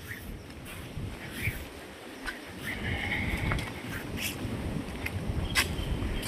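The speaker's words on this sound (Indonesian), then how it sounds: "Jadi di sini saya disambut dengan angin kencang teman-teman ya." Strong wind blusters steadily across the microphone in an outdoor spot near a river on Indonesia's south coast, with gusts rising and falling and no one talking.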